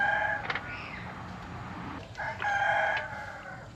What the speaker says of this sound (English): Yes, we have a rooster.